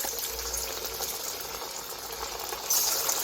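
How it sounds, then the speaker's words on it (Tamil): Marinated fish pieces sizzling in hot oil in a kadai, a steady loud hissing fry that swells slightly near the end. "இப்போ நம்ம மிக்ஸ் பண்ணி வச்சுருக்க அந்த மீன் எடுத்து நம்ம ஒரு பீஸாக போட்டுக்கலாம்"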